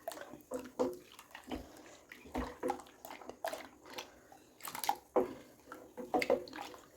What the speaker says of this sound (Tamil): இப்போ நம்ம மிக்ஸி கழுவின தண்ணியும் சேர்த்து பாத்திரத்தை கழுவி இதில் சேர்த்துக்கலாம்.